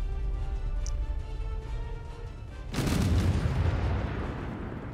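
Weapons fire in the space-combat game Space Engineers: a steady low rumble of distant firing swells at about the three-second mark into a loud, dense roar of explosions and bursts that carries on to the end, with no talk.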